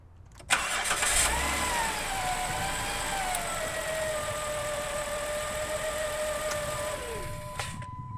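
A car engine starts with a sharp crank and then idles steadily for several seconds at moderate volume, a faint whine over it, before the engine is switched off and the sound drops away.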